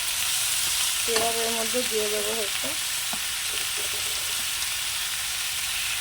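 Vegetables fry in hot oil for Barishal-style shukto, giving a steady close sizzle that runs the whole time, with a voice speaking briefly over it early on.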